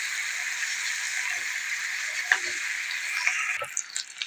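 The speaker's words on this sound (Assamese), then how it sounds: "এয়া মই তেলত তেজপাত আৰু পিঁয়াজ আৰু জলকীয়া এটা এয়া কাটি দি পেলাই ভাজি লৈছোঁ" Bay leaf, chopped onion and a green chili fry in hot oil with a steady, moderately loud hiss, broken by a few spoon clinks and scrapes near the end.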